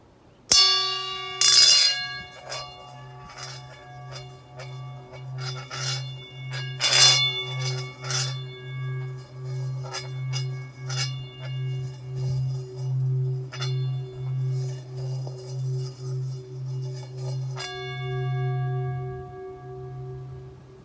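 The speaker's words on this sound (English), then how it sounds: "Let's give this big singing bowl a try." A large singing bowl rings with a long, shimmering tone, its low hum pulsing steadily as it sustains for many seconds before fading.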